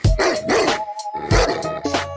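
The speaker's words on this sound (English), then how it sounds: "Nasty dog. Doggy dog." A dog barking sound effect: a few loud, close barks in quick succession, with a short gap before the last pair of yaps.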